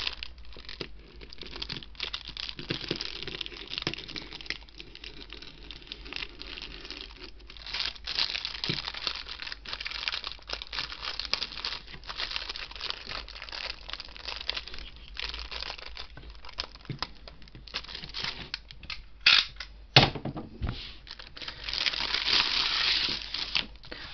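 An R2-D2 build magazine's blister packaging is opened by hand, producing long stretches of close plastic crinkling and crushing, with louder crackling bursts near the end.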